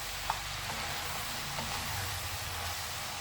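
Onions sizzling in a frying pan as they are stirred, a steady broad hiss with small scraping ticks, continuous and fairly close, no talking.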